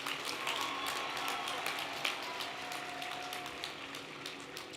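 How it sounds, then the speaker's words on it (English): A crowd applauds the graduating class of 2021 at the Spring 2021 Alabama A&M University commencement ceremony, a steady, fairly soft patter of many hands clapping together, heard from a distance and spread evenly throughout. "Let's have a round of applause, ladies and gentlemen, for the class of"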